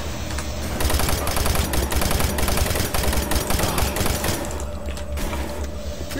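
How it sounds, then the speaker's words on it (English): Gunfire rattles through a Doom 3 firefight, a loud, dense run of rapid shots and blasts with a brief lull near the end. "I was just having trouble shooting that guy with my shotgun"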